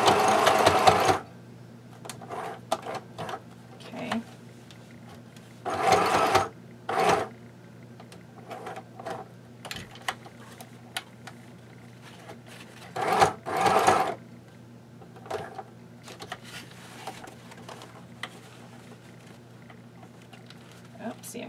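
A sewing machine stitches fabric for a travel case belly band in several short bursts, each a loud rapid whir, separated by quiet pauses with small handling clicks and rustles.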